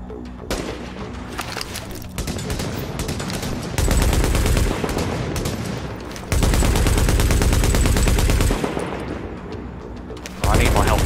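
Sniper rifle fire in the video game The Division amid a dense, continuous battle of rapid gunfire, with heavy loud bursts swelling and dropping and players talking over the din.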